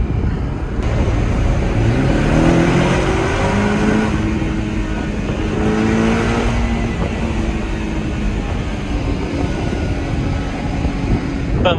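Porsche 718 Cayman engine in an aggressive drive mode, revving and pulling through a road tunnel with the windows open: a loud, sustained mechanical roar with rising and falling pitch sweeps over steady road rumble and no talking.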